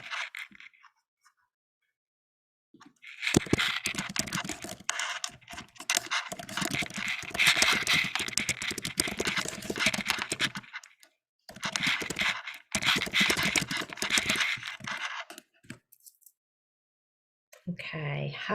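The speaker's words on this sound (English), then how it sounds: "I'm going to type it in the chat box." Rapid typing on a computer keyboard into a chat box, heard as dense bursts of close clicking in two long runs separated by brief pauses, with no talking.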